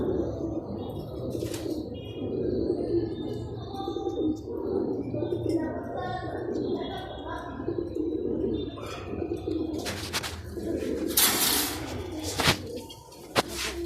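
Alexandria pigeons coo in low, soft, repeated calls, joined by bursts of wing flapping and some rustling near the end, with nearby ambient noise.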